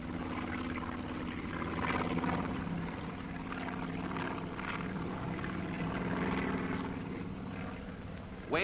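German aircraft drone overhead during the airborne invasion of Crete, a steady, low layered engine hum of propeller planes, moderately faint and sustained throughout with only gentle swells.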